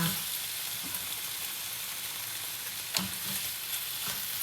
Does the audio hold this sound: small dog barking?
no